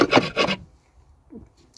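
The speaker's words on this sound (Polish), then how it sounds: "Tutaj czeka mnie jeszcze skrobanko. Rudy trzeba się pozbyć" Short scraping strokes removing rust from a Mitsubishi Pajero body, two quick close rasps followed by near silence and a faint scrape.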